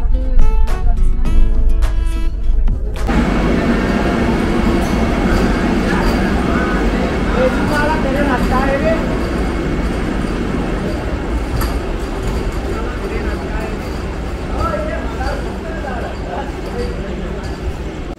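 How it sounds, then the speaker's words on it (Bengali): The Rajdhani Express rolls along the rails from New Jalpaiguri toward Rangiya Junction, a steady loud rumble that follows a brief rhythmic clatter at the start, with talk faintly audible over the running noise. "এনজিপি থেকে 359 কিলোমিটার ক্রস করে আমাদের ট্রেন এসে পৌঁছলো রঙিয়া জংশনে"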